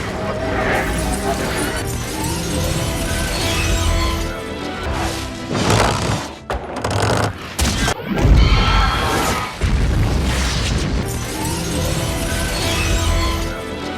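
Loud cinematic crashes and booming impacts burst amid dense music and effects, with a sharp explosive hit near the middle and a voice speaking.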